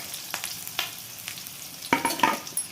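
Finely chopped onion and garlic sautéing in a pan give a soft sizzle with a few scraping stir strokes, close by and with no talk.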